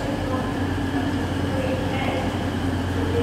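An East Midlands Railway Meridian train departing Nottingham station, a steady low rumble and hum of the train filling the platform at close range, with a station announcement voice over it.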